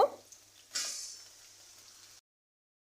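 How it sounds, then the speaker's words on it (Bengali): Marinated chicken sizzling in hot oil with onions, a faint steady frying hiss that swells briefly before cutting off into silence. "ভেজে নেওয়ার পর আমি ম্যানেট করে রাখা চিকেনটা প্রথমে রান্না করে নিব"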